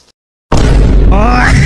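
A firecracker fountain (pushvaanam) bursts into a loud, sudden roaring gush of sparks after a brief silence, sustaining a harsh crackling hiss close by with voices mixed in.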